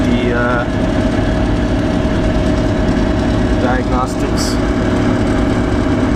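Car engine running steadily at about 2,000 RPM while warming up, a constant close hum and drone throughout, with someone talking over it.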